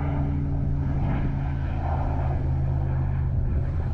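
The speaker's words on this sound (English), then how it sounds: "This is a prop plane." A propeller plane drones steadily overhead in Angus, Scotland, its engine hum constant and fairly loud with a low buzzing tone and no voices.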